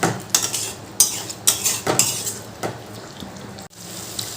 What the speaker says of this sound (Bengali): এরপর খুব ভালো করে এটা কষাতে হবে